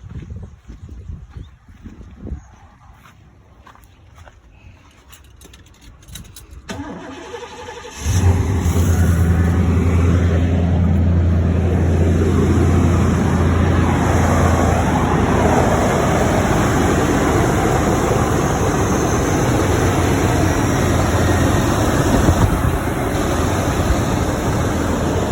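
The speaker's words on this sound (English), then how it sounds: "Power steering pump's all on, so we're gonna do the first fire right now." A 1991 Chevrolet Caprice engine fires for the first time: quiet cranking noise gives way to a sudden loud catch at about eight seconds, then a steady, rough, close-up idle drone that runs to the end.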